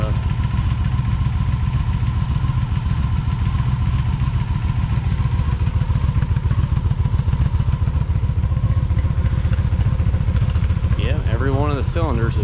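Honda Magna VF750 V4 motorcycle engine running steadily at idle, a loud continuous low rumble with a dense rapid firing pulse throughout, a brief voice cutting in near the end.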